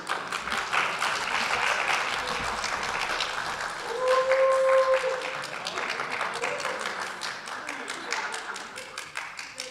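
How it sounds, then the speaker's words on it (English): A seminar audience at a peer learning exchange applauds a presenter with steady, close, dense clapping that swells briefly midway, along with a faint tonal whine, then thins toward the end. "A round of applause."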